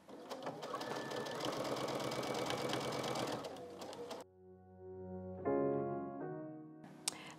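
A sewing machine stitches quilt fabric in a close, steady mechanical whir for several seconds, then stops. Sustained humming tones follow, and a brief burst of stitching returns at the end.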